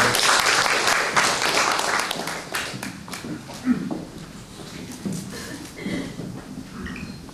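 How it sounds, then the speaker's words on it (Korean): Ceremony audience applauding at a literary anniversary and awards event, dense clapping that starts loud and thins out into scattered claps, with voices talking over the tail end. "박수로 한번 부탁해 주십시오"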